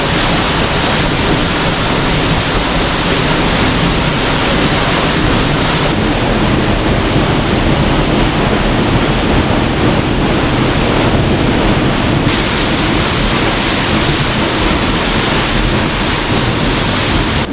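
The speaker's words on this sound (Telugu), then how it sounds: "మార్గం ఇదొకటే ఈ వాటర్కి, సో చాలా హెవీగా ఫ్లో అవుతున్నాయి." A heavy torrent of water rushes through a narrow rocky channel at Gauri Shankara Kona, a loud, unbroken roar that fills the whole stretch, close by, with wind noise buffeting the microphone.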